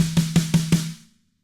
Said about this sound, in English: doing these 6 notes on the snare